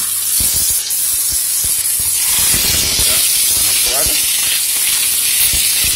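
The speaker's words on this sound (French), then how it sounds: "on met les queues de langouste côté coquille, hein, dans la poêle" Spiny lobster tails sizzling shell-side down in olive oil in a frying pan, a steady loud hiss and spatter running throughout with a few soft clicks and crackles.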